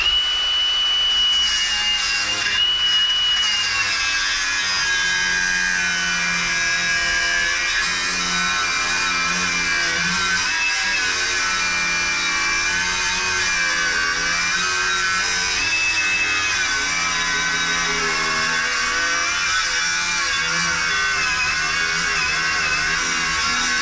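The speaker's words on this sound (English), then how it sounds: "I'm going to have to turn this grinder around" An angle grinder cutting through metal while a noisy rear differential is removed from a Land Rover Evoque, a loud continuous high-pitched whine with a wavering grinding tone throughout.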